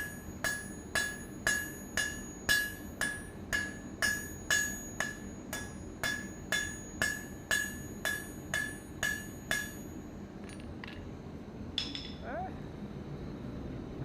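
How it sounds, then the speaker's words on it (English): Steel being forged into a taper on an anvil with the edge of a hammer: a steady run of about seventeen sharp, ringing metallic strikes at an even pace, close and clear, then a few lighter taps and quiet. "I'm basically using the edge or the corner of my hammer, hammering two sides to reduce that thickness and to create a taper in the steel."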